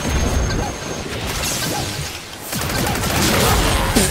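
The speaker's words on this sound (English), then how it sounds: "That guy just exploded." An enemy bursts apart in Warframe amid heat and frost weapon fire, a loud crashing blast with scattered pops and whooshes over a dense, noisy battle.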